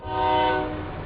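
A train horn blares at a railroad crossing, one loud sustained chord that swells and slowly fades, with rumbling rail noise underneath.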